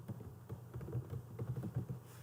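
Numbers are typed on a computer keyboard, producing soft, close key taps in an uneven quick patter over a quiet room hum.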